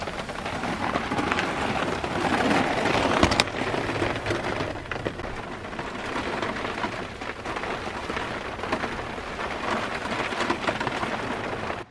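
Rain falling on a teardrop trailer at a Hither Hills campground in Montauk, New York, during the remnants of Hurricane Michael, a steady close patter drumming on the roof with brief sharper cracks, and no voices.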